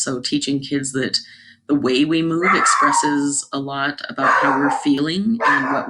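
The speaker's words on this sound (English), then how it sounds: "I'm so sorry about my dog." A dog barks in short yips in the background, mostly masked by someone talking continuously over it.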